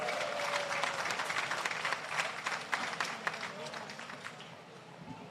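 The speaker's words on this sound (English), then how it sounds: "Another round of applause, please" Indoor audience at a civil service long service awards ceremony applauds steadily after a song performance, dense clapping from a large crowd that slowly thins toward the end.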